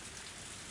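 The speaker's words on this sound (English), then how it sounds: "This sudden rain has made us in a bit of trouble." Sudden rain in the visual novel Higurashi When They Cry: Himatsubushi, a faint, steady hiss of rainfall on surfaces with no break or voice.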